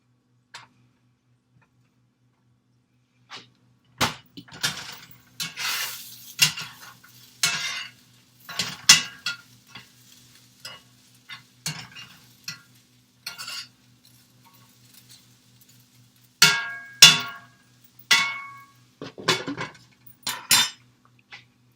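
Chorizo, eggs and cheese mixed in a pan with a utensil, heard as a long run of sharp scraping and clacking strokes in uneven bursts, close and clear over a faint sizzle, no talking.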